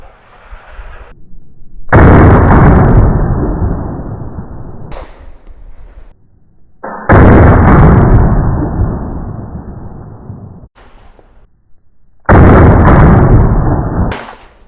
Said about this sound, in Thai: จำนวน 3 นัด กับปืน SCI กระบอกนี้นะครับ ผู้ยิงพร้อม บรรจุแม็กเข้าตัวปืน พร้อมแล้วเริ่มยิง